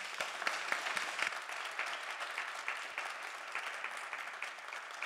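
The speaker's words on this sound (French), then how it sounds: "On peut les applaudir." An audience at a round-table on women scientists applauds the panelists, steady crowd clapping heard somewhat distant and quiet, with a few sharper nearby claps early on, sustained throughout.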